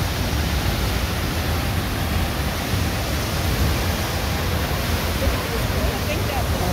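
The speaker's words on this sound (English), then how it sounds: "That's the tallest 20-foot waterfalls of Minnesota." Broad, steady rush of the 20-foot high falls at Grand Portage, Minnesota, a constant loud roar of falling water with no breaks.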